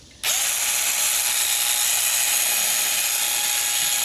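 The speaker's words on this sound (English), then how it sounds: "We're gonna try getting a drill bit, widening out" A power drill spins a bit to widen a hole while a Vorsteiner diffuser is fitted on a BMW M3. It starts abruptly and then whines steadily and loudly, close by, with no talk.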